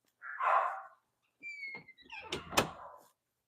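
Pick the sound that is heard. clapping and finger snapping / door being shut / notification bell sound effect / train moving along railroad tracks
door being shut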